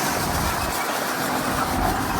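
Tractor pulling riders on a guided tour through a resort zoo, its engine giving a steady close rumble and hum that continues without a break.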